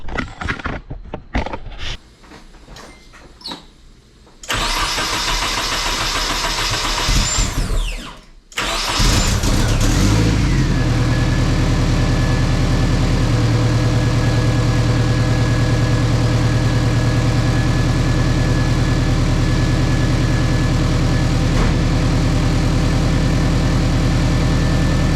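A Nissan 240SX drift car is cranked over and fires up, then settles into a loud, steady idle that runs on for about fifteen seconds, preceded by some clicks and handling noises.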